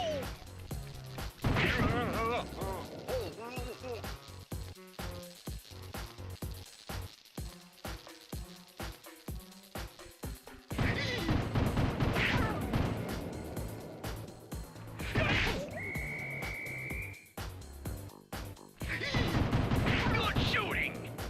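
Turret fire in a Sly Cooper video game: repeated sharp shots land in quick bursts, with clattering impacts and game effects between them, heard under excited talk through much of the stretch.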